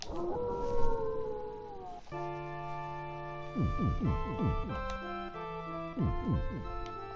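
Dogs howling in the video game Super Castlevania IV: a wavering, descending synthesized howl that gives way to chiming, sustained musical tones and quick falling swoops, soft and with no talk.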